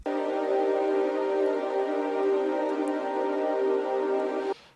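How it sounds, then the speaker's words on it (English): A sustained synth pad sample from a sample pack for liquid drum and bass holds one steady, rich chord for several seconds, then cuts off cleanly, heard alone. "So I loaded in a pad from a sample pack that I have."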